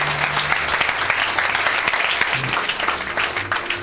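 A church congregation claps loudly and continuously in a dense, sustained wave of applause, close and filling the room, with some voices mixed in beneath it.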